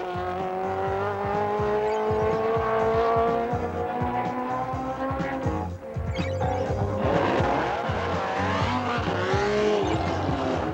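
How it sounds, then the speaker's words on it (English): Formula-style racing cars at a Canadian motor race roar with high, wailing engine notes and sharp barks, several passing one after another with rising and falling pitch, loud and echoing with faint tire squeal. "The echoing wail and bark of finely tuned engines signals another Canadian motor racing season."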